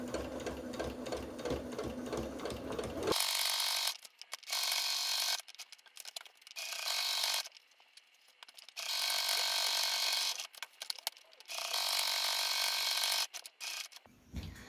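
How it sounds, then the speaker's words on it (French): A sewing machine stitches around the pocket edge of a summer tote bag, close to the edge, running in four loud, steady bursts separated by short pauses, with no talking. "on va refaire une piqûre tout autour, au plus près du bord, pour constituer notre poche."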